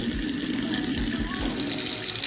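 Tap water runs steadily into a pan being filled to boil sweet potatoes, a continuous close splashing rush with no break.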